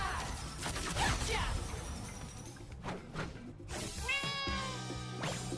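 A cat meows once or twice, fairly faint and close, amid scattered clattering and game-like background noise, with brief crackly bursts and a short rising tonal sweep near the end.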